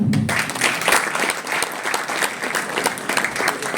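An audience applauds loudly and steadily at the launch of a women's handball league in India, dense clapping filling the room with a brief voice at the very start.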